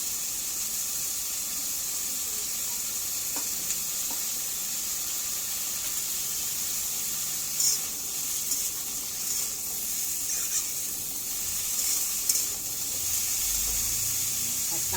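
Halved pointed gourd frying in a home kitchen pan gives a steady, even sizzle that runs unbroken throughout, close and moderately loud with faint clinks now and then.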